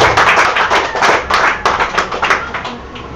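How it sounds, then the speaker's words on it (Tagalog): Church congregation clapping their hands together in a brief burst of rhythmic, fairly close applause at a healing service, with no talk over it. "pumalakpak sa Panginoon"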